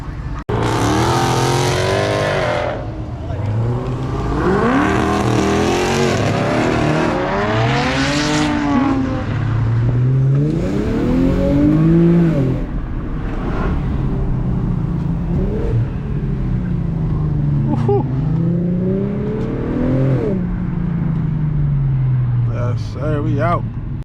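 A race car in a night street race accelerates hard, its engine howling up through repeated gear changes, loud and close from inside, with someone talking excitedly over the roar.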